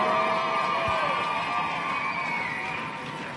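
A crowd at a flat track roller derby game cheers and shouts in a continuous wash of voices, fairly loud and steady before slowly easing off, with some talk mixed in.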